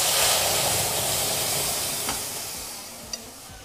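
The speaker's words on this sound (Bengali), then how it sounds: "মুসুর ডাল ও ঝিঙে দিয়ে দিচ্ছি।" Boiled masoor lentils and ridge gourd tipped into a hot pan give a broad, steady sizzle and hiss that slowly fades, with a faint clink near the end.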